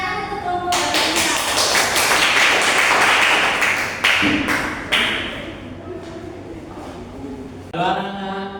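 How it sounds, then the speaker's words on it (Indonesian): A classroom group applauds in a sustained burst of dense clapping that thins out and then briefly swells again near the end, heard close by. "Tepuk tangan untuk kelompok Balita."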